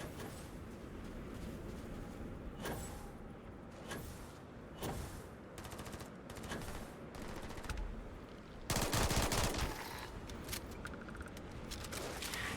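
Rapid bursts of gunfire from a flechette-round gun in the video game Crimson Fleet, sharp repeated shots in irregular clusters with one heavier, denser burst near the end, no talking.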